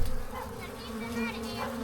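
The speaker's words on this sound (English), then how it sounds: "Still got bees on me." A honeybee swarm drones steadily and fairly close throughout the short stretch, a dense buzzing hum being coaxed into a box, with no talk over it.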